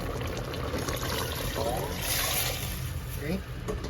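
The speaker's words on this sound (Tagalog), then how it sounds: "lagyan na natin ng konting tubig." Water poured into a cooking pot holding beef Knorr cubes, a soft continuous trickling pour heard close by under a low background hum.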